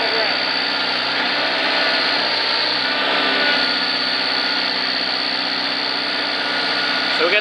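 A car engine with a broken exhaust runs loud and steady with a harsh, roaring drone, close by and continuous without letup.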